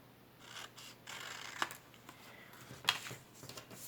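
Scissors cutting paper along traced pencil lines: quiet, close snipping and rustling with a couple of sharper crisp cuts standing out amid soft paper handling.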